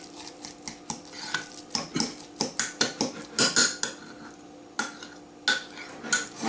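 Cutlery scraping and clinking against a bowl while tuna is mixed with egg, a quick run of sharp, close taps and scrapes coming in bursts with short pauses.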